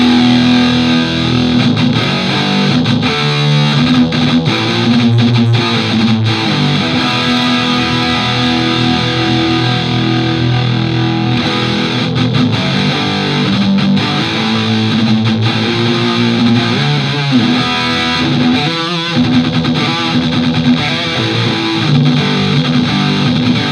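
A high-gain, heavily distorted electric guitar plays through a Line 6 Powercab 112 speaker cab, loud and continuous. Chords and riffs churn with dense, saturated fuzz, and no voice is heard.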